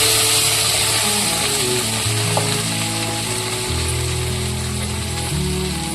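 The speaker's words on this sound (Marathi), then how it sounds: "भेंडी टाकून घेतली आहे, त्याला हलवून घेऊ।" Loud, steady sizzling of okra frying in a pan, with scraping and stirring sounds throughout and no talking.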